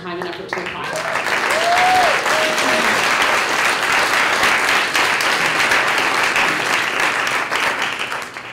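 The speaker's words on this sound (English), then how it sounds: "I want to give a round of applause to everyone who put in the time and effort to apply" A loud, full round of applause for grant applicants fills the hall at an arts fund awards ceremony, continuous clapping swelling and holding with a bit of crowd noise and a brief whistle early on.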